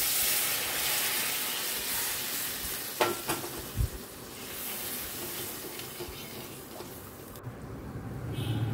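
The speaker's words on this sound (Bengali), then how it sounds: "এবারে দেব অল্প পরিমাণে একটু গরম জল।" Hot water added to a pan of sizzling spice paste for a hilsa fish curry gives a broad, steady hiss of frying and steam, with a few stirring knocks partway through, close and fairly loud, no voices.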